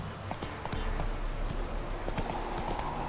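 Horse hooves galloping in the Witcher 3 video game, a quick steady clip-clop rhythm sounding close and continuous for a few seconds.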